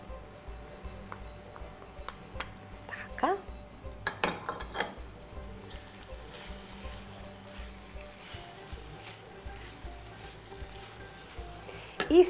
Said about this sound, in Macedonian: Нека си се пржи сега.